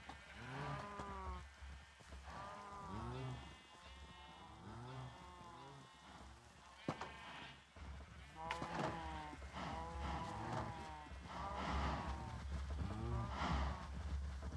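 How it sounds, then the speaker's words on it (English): Blocky Minecraft cows moo repeatedly in a survival world, their drawn-out lowing calls overlapping in an irregular rhythm at close range, with no talking. "Decided to breed some of my cows."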